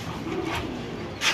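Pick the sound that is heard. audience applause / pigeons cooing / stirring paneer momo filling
pigeons cooing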